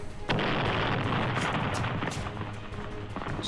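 Loud, dense game explosions and artillery-like booms rumble continuously in a chaotic multiplayer battle, with sharp bursts punctuating a steady roar and no talking.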